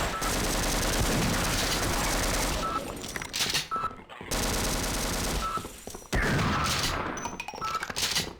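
An automated turret in Sven Co-op opens up in loud, rapid bursts of machine-gun fire, stopping briefly around the middle and then starting again, with a few sharper impacts between the volleys.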